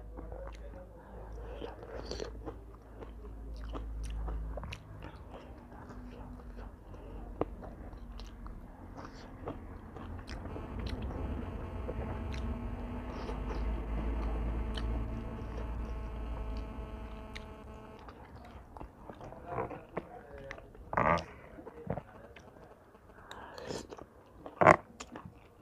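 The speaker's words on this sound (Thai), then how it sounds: "เคี้ยวแห้งบ่ได้จ้ะเสียงดังกึกๆ" Close-up chewing and biting of a Thai mixed seafood papaya salad with fermented fish sauce, repeated crunchy bites and wet squishy mastication for over twenty seconds, with faint whispered talk and occasional louder crunches near the end.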